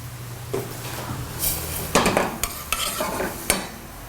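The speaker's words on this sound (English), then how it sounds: "We'll let the cheese melt in our bechamel" A spoon stirs melting cheese into a bechamel sauce in a pot to make mornay, with soft scraping and swishing, a few sharp clinks of utensil against the pan, and low sizzling underneath, heard close and alone.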